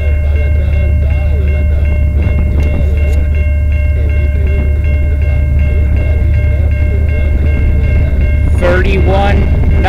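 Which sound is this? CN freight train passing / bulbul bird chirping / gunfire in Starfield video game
CN freight train passing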